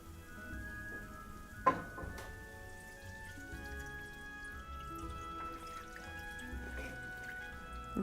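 Beef stock is poured into a roux for onion gravy, making a soft trickling, dripping splash with one sharp clink near the start, quiet and close, with no voices.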